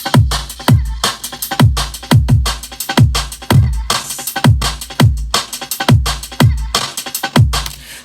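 A tight electronic drum loop of kick, snare and percussion repeats at a steady tempo, punchy kicks alternating with crisp snare hits, loud and up front with no talking.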